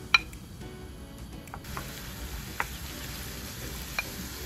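Finely chopped onion frying in oil in a pan gives a steady low sizzle, with a few faint ticks and utensil clinks scattered over it and no talking.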